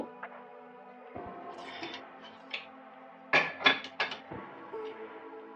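A metal lid comes off a pot of boiled chicken soup with sharp clanks and scraping clinks, several distinct metallic knocks over a low steady hum.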